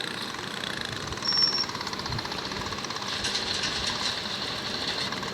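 A Royal Enfield motorcycle engine runs continuously with a loud, rough, steady thumping drone and a brief surge just after the first second.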